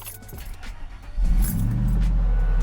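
A 1999 Ford Lightning pickup with Bassani exhaust cranks briefly, then catches into a loud, steady, deep idle rumble close by, after faint clicks and key sounds at the start.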